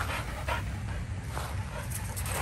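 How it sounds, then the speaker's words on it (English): A female dog pants steadily and close by, rapid rhythmic breaths over a low rumble of wind or outdoor noise, outdoors on a muddy, wet training day. "Sometimes the dog does this, whatever this is, and she just goes"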